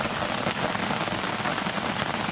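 Steady rain falls outside a screen porch at an off-grid home, a dense, even hiss of drops hitting surfaces with no gaps, moderately close and without any voices over it.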